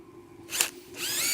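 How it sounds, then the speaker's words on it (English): A power drill drives screws through a steel swage block mounting plate into a wooden stump, giving a short whirring burst, a brief louder grinding peak, then a sustained whine near at hand with no talk. "I'm going to screw it down because it has some holes in it. Screw it down to my stump right on the edge."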